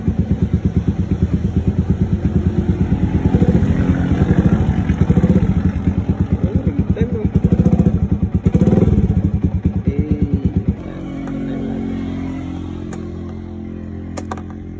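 A Yamaha Sniper 155 motorcycle with a check-engine fault starts and runs nearby. Its loud, rapid, pulsing idle holds steady, then drops to a smoother, quieter beat for the last few seconds.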